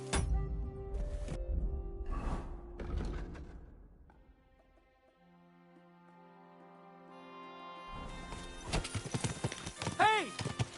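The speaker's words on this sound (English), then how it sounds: "Watch out with that horse!" Horse hooves clip-clopping in the video game Kingdom Come Deliverance 2, a steady near run of hoofbeats that fades out, then returns with harness jingling, a whinny and shouting voices.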